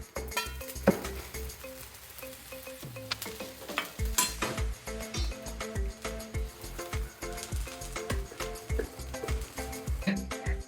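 Thalipeeth frying in oil on a pan, a close sizzle under repeated clinks and scrapes of a spatula against the pan, with a few tonal musical notes in the background.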